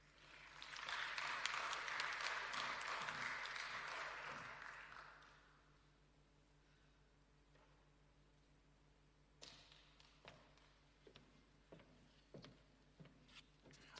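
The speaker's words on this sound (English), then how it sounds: "very strong applause for him" An audience at a climate change workshop breaks into applause, a dense burst of clapping for about four seconds that fades out, followed by a few scattered claps and light thuds in a quiet room.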